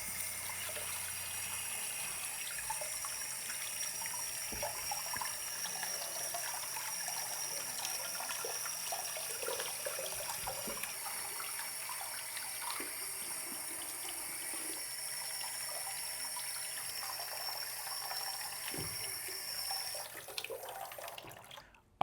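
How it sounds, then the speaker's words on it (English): Leather boots are rinsed under warm running tap water in a sink, a steady close stream of splashing and trickling that goes on unbroken for about twenty seconds before the flow cuts off. "just using a little bit of warm water, I'm gonna rinse the boots off"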